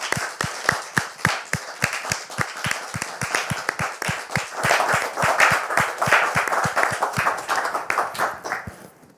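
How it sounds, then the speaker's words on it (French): An audience welcomes a guest with rhythmic, unison clapping: steady beats about three per second, swelling into fuller, denser applause midway and then fading at the end. "je voudrais vous demander de le recevoir ici maintenant sous vos applaudissements"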